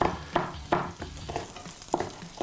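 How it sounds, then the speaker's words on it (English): Red and green chilies sizzle in a frying pan for a Thai stir fry, a loud steady crackle broken by repeated rhythmic stirring scrapes about every third of a second, close and with no voices. "So we got a load of chilies into the pan."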